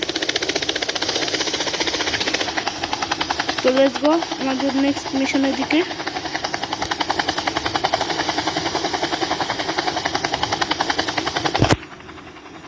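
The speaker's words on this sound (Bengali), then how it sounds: "দেখতে পাচ্ছ আমাদের হেলিকপ্টার স্টার্ট হয়ে গেছে।" A helicopter engine in a video game thuds in a rapid, steady beat, loud and mechanical, while someone talks briefly midway; the noise stops abruptly near the end.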